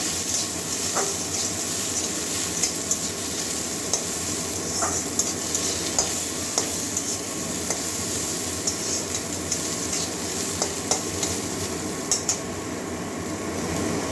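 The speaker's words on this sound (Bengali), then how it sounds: "এবার আমটা একটু ভেজে নেবো ভালো করে" Mango pieces frying in oil in a pan, a steady broadband sizzle running throughout with occasional soft clicks of a stirring utensil, no talking.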